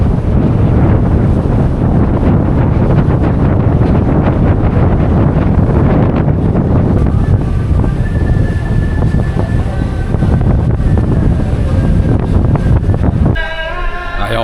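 Strong, continuous wind roars across the open sea on a ferry deck in Indonesia, mixed with the steady low rumble of the vessel and water, loud and constant throughout before cutting off near the end.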